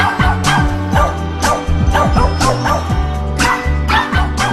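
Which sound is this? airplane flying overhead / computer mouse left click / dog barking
dog barking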